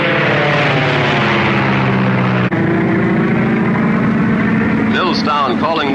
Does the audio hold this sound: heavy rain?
no